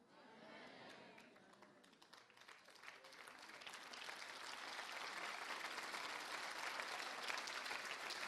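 A charismatic church congregation breaks into applause that starts thin and builds into a broad, sustained wash of clapping, with voices audible beneath it.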